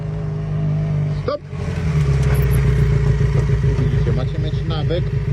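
A 125cc road motorcycle slows under braking, its steady engine drone dipping briefly then carrying on at close range, with a voice talking over it throughout.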